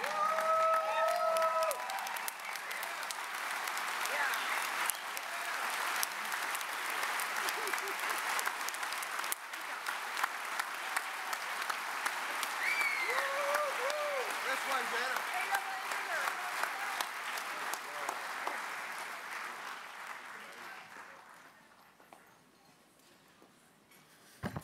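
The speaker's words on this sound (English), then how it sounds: "Let's stand up and give them a big rip-roaring round of applause." A large audience at the 2021 Western Heritage Awards induction ceremony gives a long, standing round of applause, sustained clapping with scattered whistles and shouts that gradually fades out near the end.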